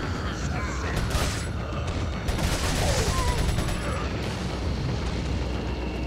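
Gunfire and mechanical clatter from the survival horror game Resident Evil 4, a dense run of loud shots with booms and creaks, continuous throughout, over game ambience.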